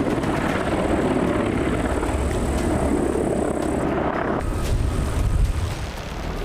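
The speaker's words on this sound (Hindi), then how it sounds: "Mi-28 attack helicopters." A Mi-28 two-seat all-weather attack helicopter roars loudly and steadily, its engine and rotor noise filling the air at close range before easing slightly near the end.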